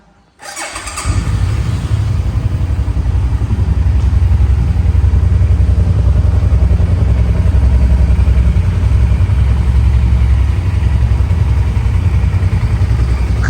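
A 2018 Suzuki Boulevard C50 motorcycle with about 15,000 km on it starts up and settles into a loud, close, steady idle, a deep even rumble with a fast pulsing beat.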